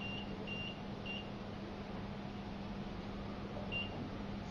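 Short electronic key-press beeps from a KD-TS3D automatic tissue processor, three quick tones then one more after a pause, over a steady mechanical hum.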